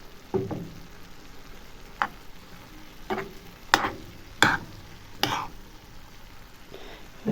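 Faint scraping taps of a utensil stirring frying greens in a pan, a handful of irregular strokes over a soft frying background.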